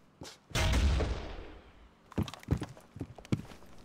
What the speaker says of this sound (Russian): Это пушка наша, по-моему, долбит.